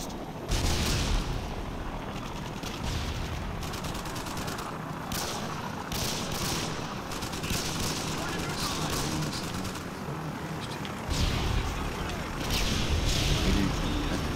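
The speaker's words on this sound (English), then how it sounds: "predator missile incoming" Explosive booms and gunfire from a Predator missile strike in Call of Duty Modern Warfare 2 roll through a dense, noisy battle mix, loud and near, with a voice talking over it.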